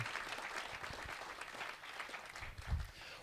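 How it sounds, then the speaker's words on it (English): A crowd at a presentation claps for volunteers returning to their seats, continuous dense applause at moderate distance, holding steady with a slight swell near the end. "Give all three of my new friends a big round of applause."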